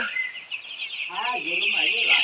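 White layer chicks at a poultry farm, thin high peeping calls repeating close by, with other chicks chirping more faintly behind.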